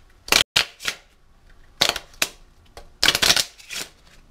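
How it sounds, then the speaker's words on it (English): A deck of 24k gold-plated playing cards is riffled and shuffled in three quick bursts of crisp, rattling flutter, close and clear with brief pauses between. "you can still shuffle if you want"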